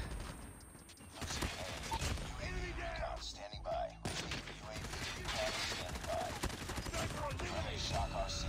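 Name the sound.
gunfire, hip firing in COD Mobile video game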